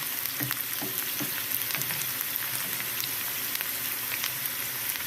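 Chopped onion frying in a pan for a meatball gravy, a steady close sizzle with light crackles and faint stirring scrapes throughout, no voices.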